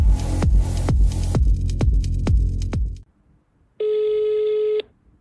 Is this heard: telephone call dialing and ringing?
yes